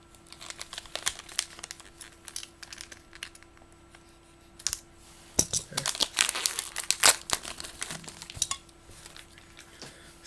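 Scissors cut open a crinkly foil trading card pack wrapper, with scattered sharp crinkles and snips that build into a dense burst of crackling rustles midway through, close and fairly quiet.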